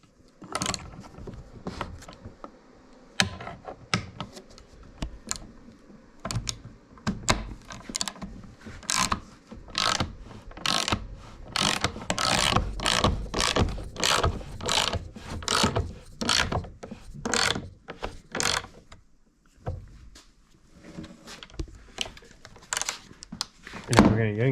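A 3/8-inch ratchet and socket driving bolts into a heavy-duty budget workbench, with bursts of rapid, sharp ratcheting clicks in close, loud runs separated by short pauses.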